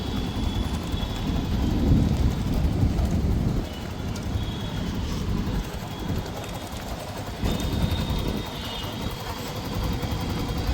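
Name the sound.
Yamaha motorcycle engine revving as clutch is released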